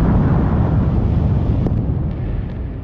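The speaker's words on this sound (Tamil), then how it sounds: "ஒரு ராக்கெட் என்ஜினை டெஸ்ட் பண்ணும்பொழுது அது வெடிச்சு சிதறவும் செய்யுது" A rocket engine blows apart during a test firing, producing a deep, loud, broad rumbling roar that slowly eases off, with no voices.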